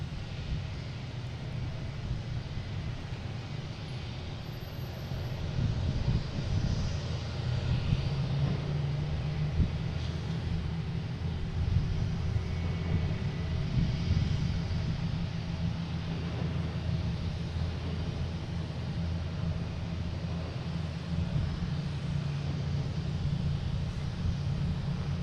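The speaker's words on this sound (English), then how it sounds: "next to arrive, we have Delta coming in from Cincinnati, E175, flight 5789." Delta Embraer E175 regional jet arriving at Boston Logan airport, a steady low jet roar sustained throughout, moderately distant with broadband engine rumble, no talking.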